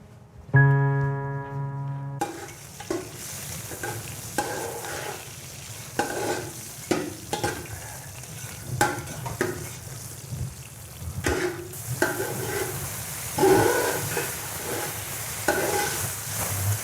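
Food stirred and fried in a pan in a home kitchen, with steady sizzling and repeated scraping strokes of a utensil, close and fairly loud; a brief tonal chime sounds near the start.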